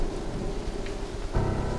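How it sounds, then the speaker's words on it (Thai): Steady rain pours down with a low rumble of thunder beneath it, a dense continuous wash that swells slightly near the end, used as a flood-storm sound effect. "หลังจากนั้นฝนก็ต กลงเทิงแผ่นดินเป็นเวลา40 วัน40 คืน"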